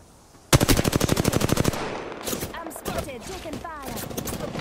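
Rapid automatic gunfire in a video game opens with a loud, fast burst of evenly spaced shots lasting about a second, followed by scattered bursts and sharp hits further off amid continuous battle noise.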